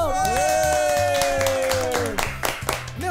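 A small studio crew claps at the close of a talk show, with a voice talking over the start and a handful of sharp, uneven claps standing out toward the end.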